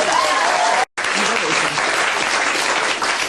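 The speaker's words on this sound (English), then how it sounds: "Let's applaud that sentence." Studio audience applauding during a 2006 television interview, loud sustained clapping close by with a brief break, continuing evenly to the end.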